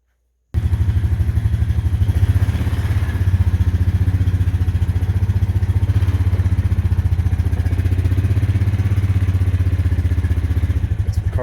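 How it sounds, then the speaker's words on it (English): A four-wheeler ATV engine starts abruptly and then idles nearby with a loud, steady, throbbing putter that stays even until the end. "I called and asked him if I could use this four-wheeler."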